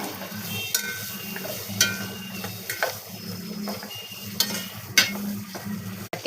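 Vegetables sizzle quietly in a frying pan, broken by occasional sharp clinks and scrapes of a utensil against the metal, close and fairly soft, with no voices.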